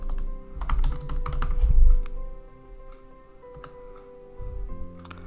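Rapid keystrokes on a computer keyboard as a git clone command is typed, irregular clicky taps in bursts with a brief louder flurry early on, close and alone with no talk.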